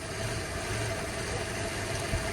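A Saleen car engine idles steadily on its own, a continuous low rumble with an even, unchanging hum and no voices over it.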